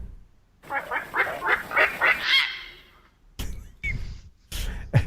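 A run of loud honking heron calls repeating rhythmically, then a few sharper squawks after a short pause, close and clear.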